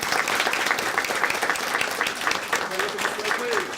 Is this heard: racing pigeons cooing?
no